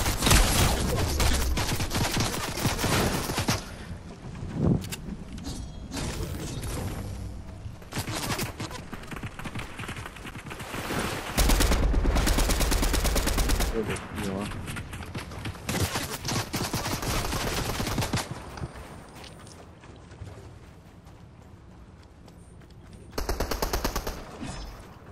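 Rapid bursts of automatic gunfire from a Fortnite match rattle loudly and almost without pause, with heavier volleys breaking in partway through and near the end.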